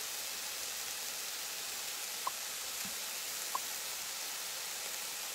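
Meat patties for Salisbury steak brown in a hot pan, a steady, even hiss of sizzling fat with a couple of faint ticks and pops, no voices.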